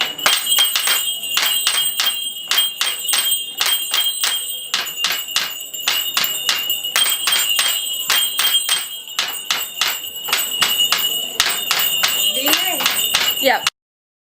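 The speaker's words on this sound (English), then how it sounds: "we need to clap, clap, clap, clap, clap, clap" A group claps together in a steady, even rhythm, sharp crisp claps repeating for over ten seconds with a few quick flurries near the end, loud and close with a faint ringing tone behind.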